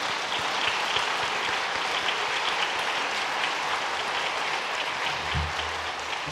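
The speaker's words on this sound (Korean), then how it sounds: "큰 박수로 저희 환영하겠습니다." A church congregation gives sustained, full applause to welcome new members standing at their seats, a steady, even roar of many hands clapping with no break, and a faint low thump near the end.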